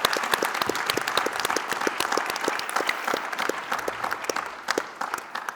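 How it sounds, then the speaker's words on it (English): An audience at a conference session applauds, with many individual hand claps standing out sharply inside a steady, even burst of clapping that carries on for several seconds. "So a big applause."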